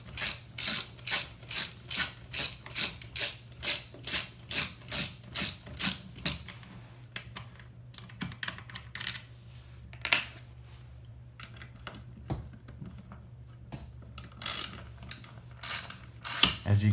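A scooter kickstart plate has its last screws backed out with a ratcheting driver, giving a fast run of sharp, regular clicks up close that stops, leaves a quiet stretch with small handling noises, then resumes in short bursts.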